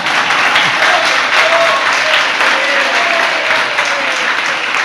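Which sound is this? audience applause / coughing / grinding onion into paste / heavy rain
audience applause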